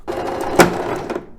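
A Lidl sewing machine stitches a backstitch on a tote bag, a short close run of rapid mechanical stitching with a sharp click partway through before it stops.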